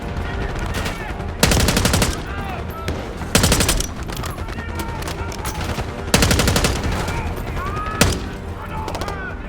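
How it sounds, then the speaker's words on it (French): Rapid bursts of automatic gunfire in Call of Duty: Black Ops 6 crackle repeatedly, with loud sharp volleys cutting through a busy background of shouting voices and battle noise. "Des coups de feu, à droite."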